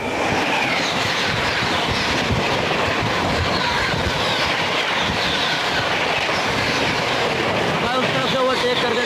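The North East Express rolls past on the railway track near a level crossing, a loud continuous roar of wheels with clickety-clack rhythm and a brief squeal toward the end.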